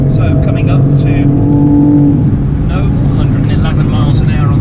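A 2020 Toyota GR Supra or BMW Z4M Coupe accelerates hard around the Goodwood track, a loud, close in-car engine drone rising steadily in pitch, continuous throughout.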